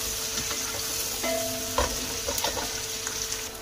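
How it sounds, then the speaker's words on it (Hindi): Rolls pan-frying in oil give a continuous sizzle with scattered stirring and scraping clicks and a brief tonal clatter, close and fairly loud, with no voices. "साथ ही मैंने रख दिए हैं पैन फ्राई करने के लिए रोल वगैरह"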